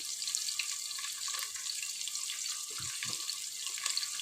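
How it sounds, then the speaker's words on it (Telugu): Onions sizzle in hot oil in a pan for vegetable biryani alongside carrots, beans and potatoes, giving a steady close hiss and crackle with scattered pops throughout and no talking. "ఆనియన్స్ ఇట్లా ఫ్రై అవుతున్నాయి కదా"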